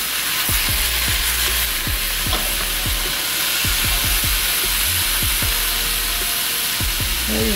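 A burger frying in a pan, loud continuous sizzle and hiss with repeated scraping stirs and utensil taps throughout, close up.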